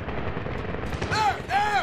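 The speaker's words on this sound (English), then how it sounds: "It is an AK fire." AK rifle fire in the video game Medal of Honor (2010), dense rattling bursts of gunfire under a constant combat rumble, with a couple of short tonal sweeps near the end.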